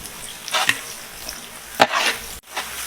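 Curry leaves dropped into hot oil in a pan, sizzling and being stirred, with a few sharp bursts of crackling and scraping against a steady low frying hiss outdoors.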